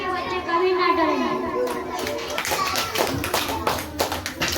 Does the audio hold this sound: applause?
yes